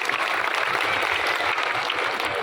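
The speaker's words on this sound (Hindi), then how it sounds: "एक बार जोरदार तालियां होनी चाहिए" Loud, dense audience applause at a district foundation day celebration in Madhubani, held steady throughout with no pause.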